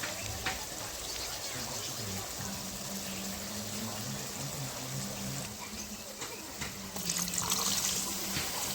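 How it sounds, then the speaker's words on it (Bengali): Water is poured into a pan of turmeric, chili powder and cumin powder cooking on the stove, a steady splashing, sizzling wash under a voice speaking intermittently, with a brighter burst of hissing near the end. "একটু জল দিয়ে দিলাম"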